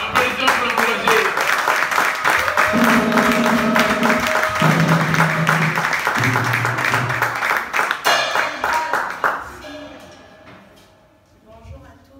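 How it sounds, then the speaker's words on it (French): A church congregation claps to encourage a woman coming up to give testimony at a Sunday service, steady clapping under singing tones and talk for about ten seconds, then tapering off into quiet. "Applaudissons pour l'encourager."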